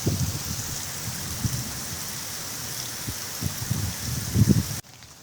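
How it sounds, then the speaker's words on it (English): Steady rain hisses down close by in high wind at a tiki hut, with low gusty rumbles and patters beneath it, then the sound cuts off abruptly near the end. "Even in high winds and rain"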